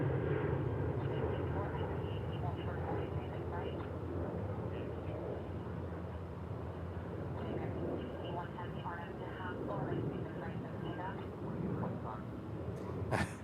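A jet airliner departs from DFW International Airport, its engines a steady broad roar across the whole clip with a voice talking over it.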